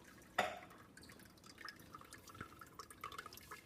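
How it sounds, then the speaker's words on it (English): Red cabbage liquid drips through filter paper, giving a faint splash followed by soft, irregular small drips in a quiet room. "It may take a little while for everything to drip out"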